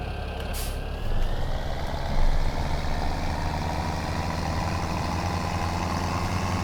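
A tractor engine in Farming Simulator 2017 drones low and steady as it idles and rumbles, with a brief hiss and slight revving swells early on.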